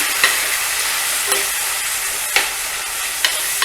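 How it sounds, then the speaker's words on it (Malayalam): Chopped tomatoes stirred in a hot pan for a tomato curry give a continuous close sizzling hiss, with a few sharp scraping knocks from the stirring spoon spaced about a second apart. "ഇനി ഇതിലേക്ക് നമ്മൾ അരിഞ്ഞു വെച്ചിരിക്കുന്ന തക്കാളി ഇട്ട് കൊടുക്കാം ഇത് നന്നായിട്ട് ഇളക്കണം"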